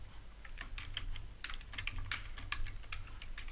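Steady keystrokes as a project name is typed on a computer keyboard, a brisk irregular patter of clicks close by over a low constant hum, with no voices.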